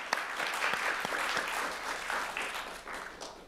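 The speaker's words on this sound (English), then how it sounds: "Good round of applause." An audience at a State Library of Queensland research presentation gives a round of applause, sustained, even clapping from a room of listeners that fades slightly toward the end.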